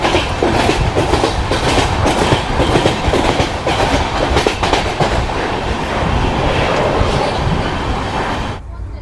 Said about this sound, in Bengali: ট্রেন কিন্তু কন্টিনিউ 128, 129-এ টানছে